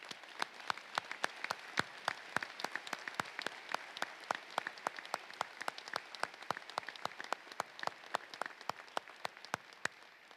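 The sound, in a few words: audience applause for award recipients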